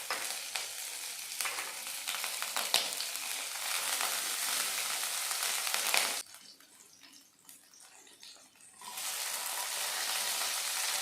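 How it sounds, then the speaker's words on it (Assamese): Garlic and green chillies fry in hot oil over a high gas flame for chilli chicken, a loud, steady sizzling crackle that drops briefly quieter partway through, then surges back. "এইখিনি এতিয়া কেইছেকেণ্ডমান কাৰণে ভাজি ল'ম।"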